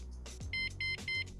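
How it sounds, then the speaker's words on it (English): An e-bike alarm arming: three short, loud electronic beeps in an even rhythm, close by, after a brief mechanical sound. "And now it's alarm protected."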